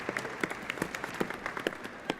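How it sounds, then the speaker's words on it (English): Warm round of applause from an audience at a rally in Tower City, a steady patter of many hands with some louder close claps standing out, moderately distant. "So Bob, let's extend a warm round of applause for Bob DiBiasio."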